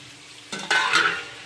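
Chicken and potatoes being stirred in a hot frying pan, a quiet sizzle followed by two quick scraping stirs that bring louder bursts of frying.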